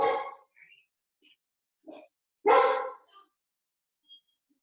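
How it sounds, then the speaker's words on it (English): A dog barking indoors during a home exercise session, a few short separate barks and yips with silent gaps, the loudest bark coming near the middle. "Excuse the dog."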